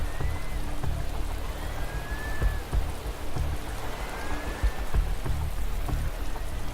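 Steady rain from the racing management game Motorsport Manager, a constant hiss of drops with faint water patter throughout, no voices.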